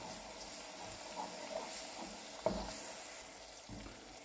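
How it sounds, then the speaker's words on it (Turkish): Steady sizzling of tomato paste frying in a pot, with a soft clink of a utensil midway and light stirring scrapes. "Şimdi salçayla biraz kavuralım."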